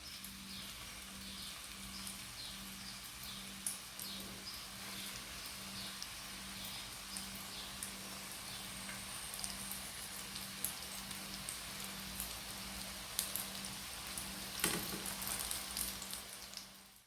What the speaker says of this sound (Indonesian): Sekarang kita akan goreng kotaef yang tadi kita bungkus ya.